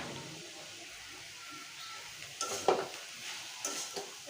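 Boiled chickpeas and shrimp frying in a pan, a faint background sizzle that turns busier midway with clattering spoon strokes against the pan, quiet overall with no talk.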